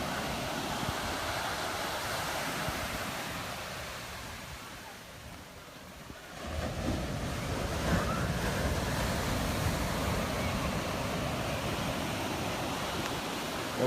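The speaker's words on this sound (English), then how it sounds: "those are some huge waves" Large shorebreak waves crash and roar continuously at Kua Bay beach, a dense loud surf wash with a brief lull in the middle before the next heavy wave rushes in.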